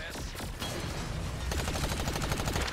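Gunfire in the video game Agents of Mayhem sounds as a dense, continuous rattle of shots mixed with game effects, fairly loud and busy throughout.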